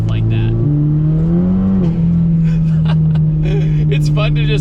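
Chevy Cobalt SS accelerating hard, the engine note rising steadily and droning loud and close from inside the car, with a person talking over it.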